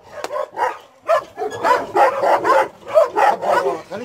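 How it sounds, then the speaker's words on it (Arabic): A large Caucasian shepherd dog barks repeatedly in fast, deep bursts, close by, with brief pauses between volleys. "كلب قوقازي شرس بده يقتلني"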